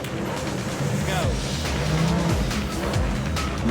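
A Porsche 911 rally car on long studded tyres races across ice, its engine revving hard and close with rising and falling pitch and tyres scrabbling on the frozen surface.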